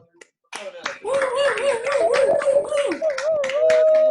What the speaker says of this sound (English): I'm going to unmute us all to give one more big round of applause for Lauren